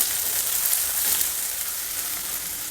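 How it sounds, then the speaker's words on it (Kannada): Fresh green peas fry in a hot tempering, giving a steady, close sizzle and crackle throughout with no talking. "ಒಗ್ಗರಣೆಯಲ್ಲಿ ಹುರಿವಾಗಲೇ ಬೆಂದ್ಬಿಡುತ್ತೆ ಫ್ರೆಶ್ ಬಟಾಣಿ"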